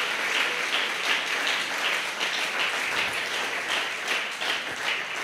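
A church congregation claps together at a Spanish-language worship service, a dense, even wash of applause lasting several seconds at moderate distance with no voices on top.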